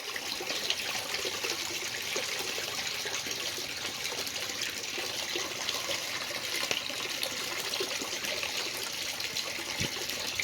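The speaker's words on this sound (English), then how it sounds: "That is such a soothing sound, that water." Water runs steadily through a gold sluice bucket, a soft, continuous trickling and gushing wash that stays even throughout with no talk over it.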